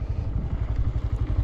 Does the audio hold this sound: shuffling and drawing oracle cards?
no